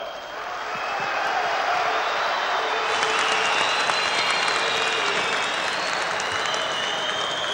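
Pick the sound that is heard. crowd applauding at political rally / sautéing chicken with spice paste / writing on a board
crowd applauding at political rally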